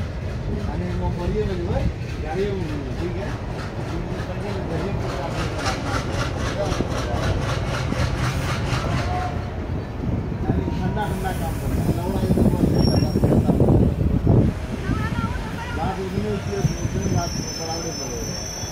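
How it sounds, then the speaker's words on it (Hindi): A Jogbani to Danapur Express passenger train departs an old railway station, wheels clattering in a steady rhythm with squeals and engine rumble, while people talk nearby over the noise. "ललित ग्राम को छोड़ते हुए अपनी ट्रेन"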